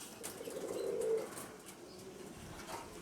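A blue-grey rock pigeon gives a low cooing call near the middle, one soft rolling coo over faint outdoor background, with no voices.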